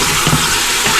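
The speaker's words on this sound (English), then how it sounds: "Saute, whatever you want to call it. Get the cooking started." Chicken pieces sauté in an Instant Pot, giving a steady close sizzle and crackle of frying throughout the brief moment, with no talking.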